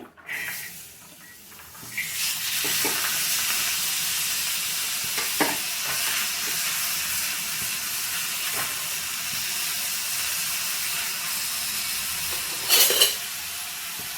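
Small bitter gourds sizzle and fry in a hot pan with a steady, loud hiss that starts about two seconds in. Occasional stirring clatters cut through, and there is no talking.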